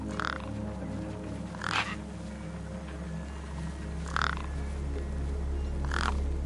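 Birds feeding on a corpse propped against a rock in the game Beyond A Steel Sky give four harsh, spaced caws over a steady low ambient drone.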